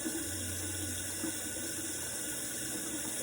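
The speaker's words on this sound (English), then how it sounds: "So I just take a rag, then I wet my face really good." Bathroom tap running steadily while a face is wetted with a rag, a faint continuous hiss of flowing water with light splashing close by; no talk.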